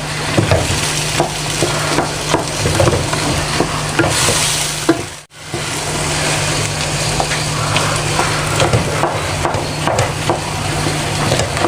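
Cooked chana daal being mashed by hand in a pot, a continuous, close, squelching and scraping texture with repeated pressing strokes, pausing for a moment midway.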